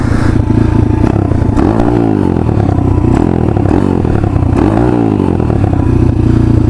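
A dirt bike enduro motorcycle with a new engine, running right after being started, heard as a loud, close, continuous rough engine drone with slight rises and dips in revs.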